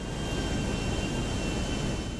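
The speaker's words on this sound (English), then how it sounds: "Wait, I'm in a plane now." A steady airplane engine drone from the GTA V Online video game, loud and constant throughout, with no talk over it.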